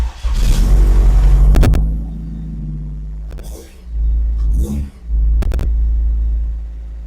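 A car engine fitted with a new billet throttle bracket starts and idles with a deep rumble, then revs sharply several times, each burst rising and falling back to a steady idle, loud and close.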